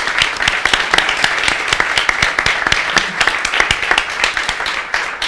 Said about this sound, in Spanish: yo os pido un aplauso para agradecerle su intervención y su trabajo